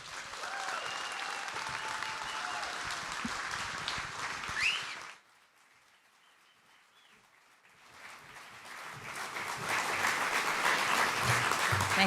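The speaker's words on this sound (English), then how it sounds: "please give another May Institute round of applause, cheer, whoop, holler, and an enormous welcome to Ellen Hollis." Audience applause and cheering at a May Institute evening event, loud sustained clapping that briefly drops to near silence before swelling again into strong applause.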